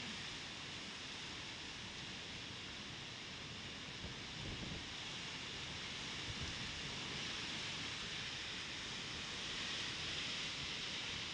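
Heavy rain pours down during a violent storm over a Punjabi village, a steady, dense broadband roar with gusty wind noise that holds constant and close throughout, with no voices.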